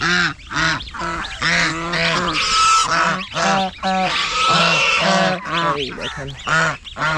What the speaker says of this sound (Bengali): এইখানে রাজহাঁসের বাচ্চাগুলো চলে আসলো